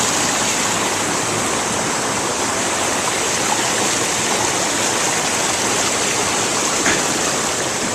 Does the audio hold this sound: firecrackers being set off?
no